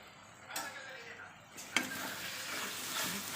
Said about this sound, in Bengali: এবার মশলাটা ভালোভাবে কষে নিতে হবে